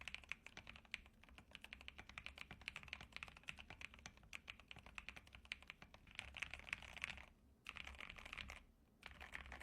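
Typing on an ACO PC75B Plus Air keyboard fitted with Milky Yellow Pro switches: a quick, steady stream of soft, close keystrokes, heard alone, with two brief pauses near the end.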